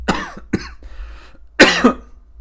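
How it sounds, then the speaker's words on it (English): A man coughs close to the microphone during a live game stream: two sharp coughs, a brief pause with faint breathing, then a harder double cough. "I'm sorry for the coughing"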